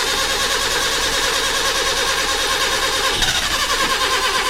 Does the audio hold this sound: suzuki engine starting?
yes